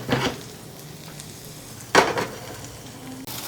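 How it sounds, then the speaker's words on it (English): Garlic dropped into a hot pan for a baby bok choy and shiitake dish sizzles in two short bursts, separated by a quieter hiss and a brief clatter of a utensil. "I'm going to add the garlic now"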